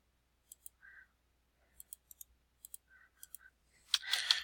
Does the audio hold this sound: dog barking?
no